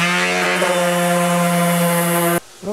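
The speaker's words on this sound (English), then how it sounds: "I'm going to sand this down to 220 with 220 grit." A power sander on an MDF board with 220 grit sandpaper, a loud steady droning motor whine that cuts off abruptly near the end.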